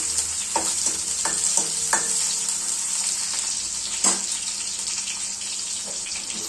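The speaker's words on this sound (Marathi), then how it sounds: "आपण याच्यात कांदा टाकून घेऊया" Chopped onion sizzles and crackles in hot oil while a spoon scrapes and stirs it in a pan for a padwal (snake gourd) bhaji, a steady close hiss broken by a few sharp scraping clicks.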